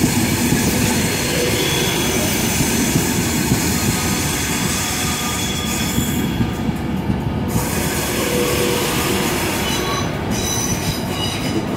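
Virgin Pendolino 390126, Virgin Enterprise, moves through London Euston with a loud, steady rolling rumble, wheel squeal and rhythmic clicking over rail joints throughout.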